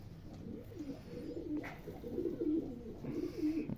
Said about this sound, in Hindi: तो ये जी इस तरह के कबूतर हैं।